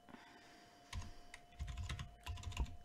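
Keys on a computer keyboard clatter in several quick bursts of close taps, a shortcut-style cluster of presses amid quiet background hum.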